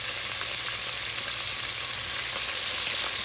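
Jackfruit tender bites fry in a skillet on high heat, giving a steady, dense sizzle with faint crackles throughout, close and continuous, with no talking.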